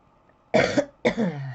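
Two loud, close coughs in quick succession, each harsh and raspy, with near silence before them.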